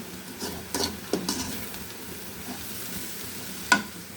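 Drumstick leaves (sajna shak) cook in a pan, with a few scattered stirring scrapes and soft sizzling clicks, a sharper clink near the end, all fairly quiet with no voices.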